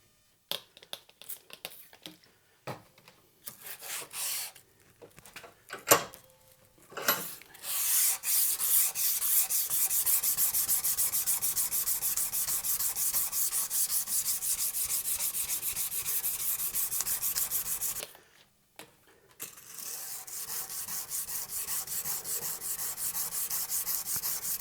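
Hand sanding with 150 grit sandpaper on a Damascus steel knife, a steady raspy rubbing that runs in long continuous strokes after a few short starts, close and fairly loud, with a brief pause near the end.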